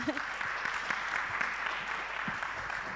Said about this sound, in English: Shall we clap for him as he comes?